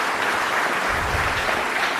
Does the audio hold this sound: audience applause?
yes